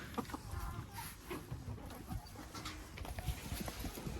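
Chickens at feeding time cluck softly, a faint, scattered flock in the background with a person talking quietly nearby.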